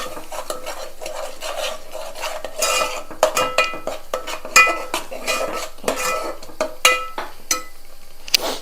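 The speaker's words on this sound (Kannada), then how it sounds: "ಉರಿ ಸ್ವಲ್ಪ ರೈಸ್ ಮಾಡಿ ಮಿಕ್ಸ್ ಮಾಡ್ತಾ ಹೋಗಿ." A spoon stirs vegetable kurma paste in a pan over raised heat, giving irregular scraping strokes and sharp metal clinks against the pan, close and clear, with a faint sizzle and no talk.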